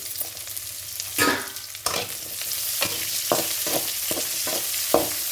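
Curry leaves and chopped onion fry in a pan for an okra curry, a loud crackling sizzle punctuated by repeated scraping strokes of a spatula stirring, with no voices.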